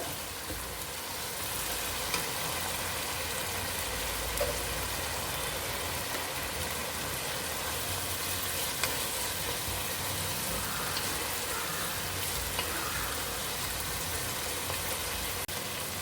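Steady close sizzle of onions and chicken sautéing in hot oil in a pan for chicken fried rice, a continuous frying hiss with faint stirring scrapes and no talk.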